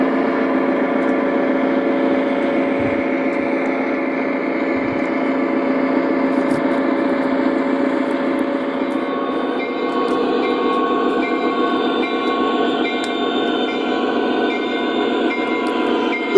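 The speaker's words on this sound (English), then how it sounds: "Now the train is ready to be shoved into a siding." An O gauge model train shoved slowly into a siding, giving a steady, close rolling hum with layered motor whine and faint rail clicks that run unbroken and evenly loud throughout, with no voices.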